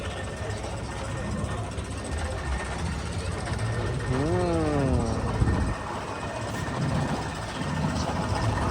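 A 1946 Fordson Major tractor engine idles close by at a vintage machinery fair in England, rumbling low and steadily, with a brief rising-and-falling whine partway through and a short murmur of voice.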